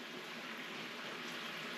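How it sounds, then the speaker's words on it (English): Bourbon chicken sauce simmers in a pan, giving a faint, steady fizzing and bubbling hiss that runs continuously and quietly with no voices. "Got some bubbling going there."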